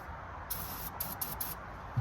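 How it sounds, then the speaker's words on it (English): Brake cleaner sprayed from an aerosol can into the engine of a 1960 Cadillac hearse, in several short hissing bursts at close range with brief pauses between them. "I got some brake cleaner here,"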